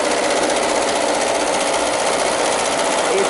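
A sewing machine stitches together and finishes the ruffle ends of a skirt, trimming off the excess, with a fast, steady mechanical whirring buzz at close range and no pauses.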